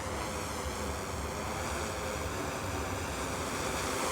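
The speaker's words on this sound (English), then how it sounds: "let's listen to the pitch of the drone" A large DJI Matrice 300 drone flies with a continuous, even broadband whir of rotors, steady and fairly close, with no talk.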